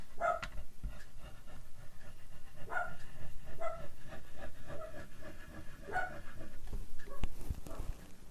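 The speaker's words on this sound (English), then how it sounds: "My dog thinks he wants to bark." Oz, a pet dog, gives a few short barks and yips in the background of a quiet room, distant and spaced apart over a low hum of household noise.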